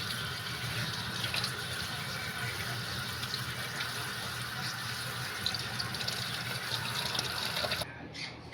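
Beans are washed under running tap water, a steady close stream and splash that continues for several seconds and then stops abruptly at the end.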